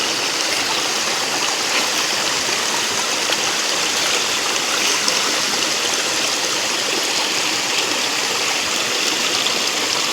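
Clean stream water flows steadily and close by for the whole stretch, a dense, even rushing with a bright trickling edge, no voices over it, at a riverside fishing spot.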